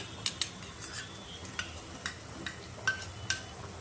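Tomatoes stirred into softened onions in a pan for a dry Maharashtrian flat bean and potato bhaji, with faint spoon scrapes and light clinks against the pan over a low sizzle.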